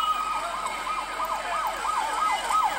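Wailing emergency siren on a rescue boat racing to a capsized tourist boat near Fort Lauderdale in 1997, a loud continuous up-and-down sweeping wail close by, sounding alone without voices.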